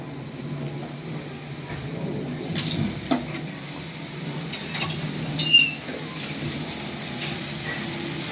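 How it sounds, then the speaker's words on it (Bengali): Spice paste sizzling in oil in a pan while being stirred, a soft continuous fry with faint scraping clicks of the spoon, fairly quiet and steady. "মশলাটা আমি কষছি।"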